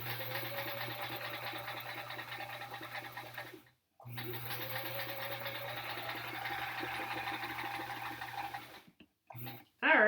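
A sewing machine stitches a quilt block for a sampler quilt-along, running in a steady, even hum with a rhythmic mechanical chatter, pausing briefly once, then stopping near the end as a short voice is heard.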